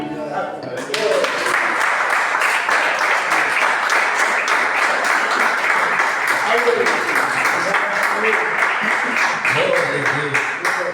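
A church congregation at a worship service in Arroio do Silva, SC, applauds in a steady, dense wash of clapping that starts about a second in and holds evenly loud to the end, with a voice faintly present beneath.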